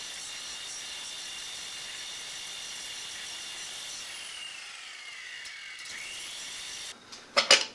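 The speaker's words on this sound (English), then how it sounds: "One thing I gotta do is grind that bridge because now that I welded it, it won't drop down all the way" A grinder works on the welded steel bridge of a homemade hand punch press, giving a steady, bright abrasive hiss that holds for several seconds before the motor's whine drops and spins down, followed by a few sharp metallic clanks.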